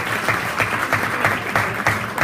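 An audience at a football club party applauds steadily, with dense, close clapping sustained throughout the short stretch.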